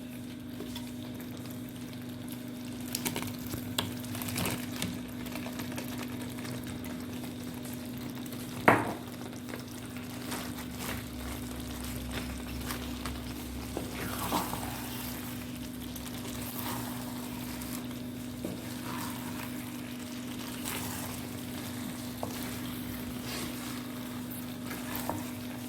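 Fried chicken pieces are turned in a sizzling pan for chilli chicken, with a steady low sizzle throughout and scattered clinks and scrapes from the spoon, one sharper knock standing out.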